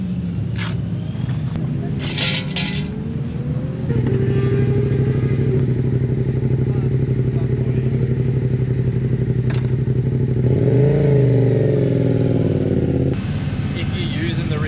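A motorcycle engine revs at a training session in Italy, a loud, close, sustained drone that rises in pitch midway, with clattering and brief knocks over it.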